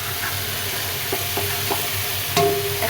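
Mustard paste and whole dried red chilies frying in mustard oil in an old curry pan for green mango pickle: a soft continuous sizzle, a few scraping stirs, then a sharper clatter near the end.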